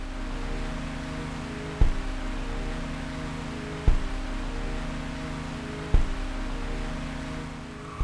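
A second record player loops a single groove with its stylus held in place by thread, giving a steady droning tone with a soft crackle and a sharp click repeating about every two seconds.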